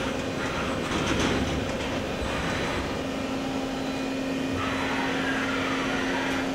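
A Daewoo Puma 200LMSA CNC turning center's X-axis moving: a continuous machine whine and motor hum, with a rising tone shift partway through and light rattling, heard alone at moderate level.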